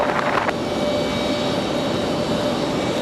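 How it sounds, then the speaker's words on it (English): An Airbus A320 jet arriving at Raleigh Durham airport gives a loud, steady engine roar that holds close and constant, with no voices over it. "here comes our flight from Charlotte, the"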